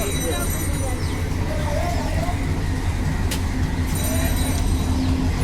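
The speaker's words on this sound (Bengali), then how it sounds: "পঞ্চগড় অভিমুখী দোলনচাপা এক্সপ্রেস প্রবেশ করছে" Dolonchapa Express bound for Panchagarh, hauled by locomotive 2907, rolls into a Bangladeshi station with a steady low rumble and rail noise throughout, loud and continuous, while a voice talks over it.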